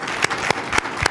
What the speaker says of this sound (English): Can we give a round of applause to this panel